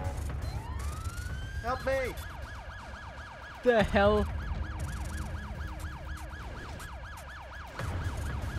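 A wailing ambulance siren in a video game sweeps and cycles steadily through most of the stretch, loud and close, while excited voices shout over it.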